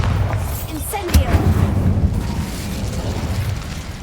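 Bombarda and Incendio spells blasting in the Hogwarts Legacy video game, a dense rumbling burst with a sharper boom around the middle, layered over continuous low game sound and some voice.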